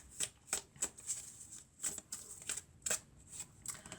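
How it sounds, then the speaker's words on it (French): Tarot cards being drawn and shuffled, a series of soft papery riffles and flicks at irregular intervals, close and quiet, with no talking. "Alors, on va prendre quelques cartes."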